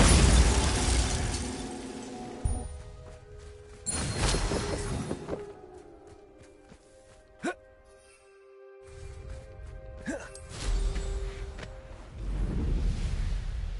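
Spell effects in Hogwarts Legacy burst out in bursts: loud crackling blasts and shattering impacts come in several waves, with a sharp pop and humming magical tones between them.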